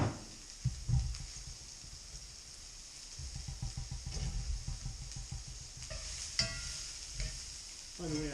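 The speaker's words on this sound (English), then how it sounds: "I'll put the onions in, brown them some" Onions browning in bacon grease in a pan, a soft steady sizzle broken by several scraping stirs and clinks of a utensil against the pan, fairly close and quiet.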